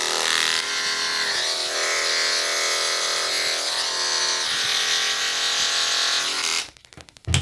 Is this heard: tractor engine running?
no